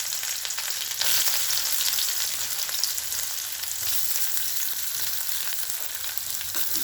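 Onions fry in hot oil after whole garam masala and bay leaves, a soft, even sizzle and hiss heard up close, alone with no voices.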